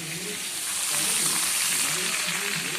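Bay leaf and panch phoron crackle and sizzle in hot oil for a tempering, a dense continuous frying hiss close by with light stirring.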